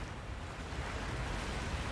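Steady, even wash of water and surf around a swimming character in Rise of the Tomb Raider, with a continuous rushing texture and no distinct splashes or voices.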